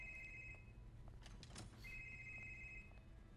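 Phone ringing in the video game Marvel's Spider-Man: two sustained electronic ring bursts separated by a short pause, faint against a low background hum, with no talk.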